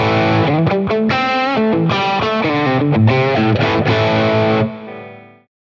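Electric guitar played through a Boss Katana amp with a noise gate, giving loud distorted chords and notes with effects in choppy rhythmic bursts, then a held chord that cuts off sharply into silence.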